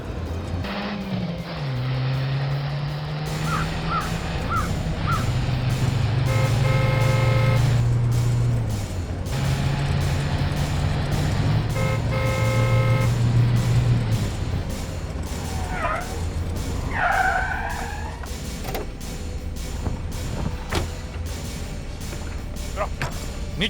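Cars race in a chase, engines revving loudly in long sustained surges with bursts of squealing, skidding tires, while voices shout over the roar.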